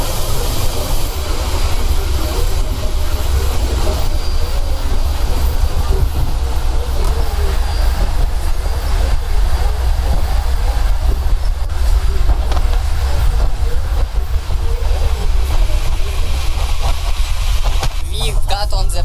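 Train ride in Thailand leaving Bangkok, a loud steady rumble and rattle of the moving carriage with wind noise throughout, no clear voices.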